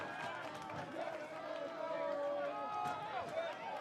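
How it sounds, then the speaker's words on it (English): Crowd at a Portland Pickles versus Medford Rogues baseball game at Walker Stadium in Southeast Portland on an evening, a low, steady murmur of many voices heard under a commentator's talk. "the crowd here at Walker Stadium is sufficiently loud still this evening"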